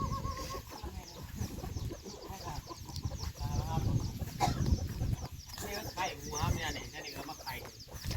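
Chickens of a wild-jungle type, a hen raising her chicks, cluck and call on and off throughout, mixed with rustling and other farmyard noise, with people talking over them.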